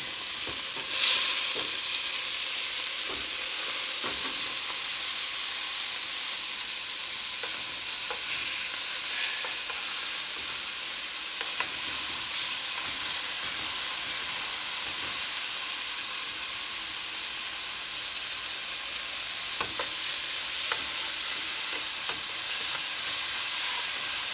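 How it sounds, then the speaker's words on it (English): A steady, close sizzle of beef rolls (German rouladen) frying in a hot pan continues throughout, with occasional soft clicks and bumps. "Nice sizzling sound."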